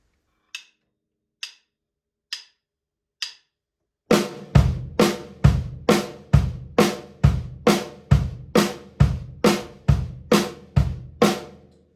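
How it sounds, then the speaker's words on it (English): Four light clicks count in, then a steady drum groove: crisp snare-like hits on each beat with low bass drum thumps falling between them, close and clear. "the bass drum is going to go on the offbeat eighth notes"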